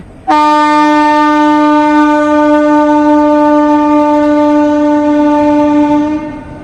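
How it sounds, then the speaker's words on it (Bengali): A loud, steady horn-like tone with strong harmonics holds for about six seconds before fading, like a train sounding as it passes near Adra, Purulia. "পলাশের আড়াল দিয়ে ট্রেন যাচ্ছে"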